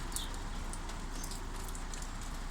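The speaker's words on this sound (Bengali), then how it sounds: "ঝিরি ঝিরি বৃষ্টি পড়তেই আছে, হঠাৎ হঠাৎ বাড়তেছে, হঠাৎ হঠাৎ কমতেছে" Light drizzle falling in Mecca, a soft, steady patter of fine raindrops with faint scattered ticks, low and even, with no one talking.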